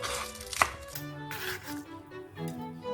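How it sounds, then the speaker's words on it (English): A knife chops spring onions on a cutting board into half-inch pieces, with a few close, sharp strikes over quiet kitchen background, one blow standing out louder than the rest. "2 spring onions, chop them in about half an inch and set it aside."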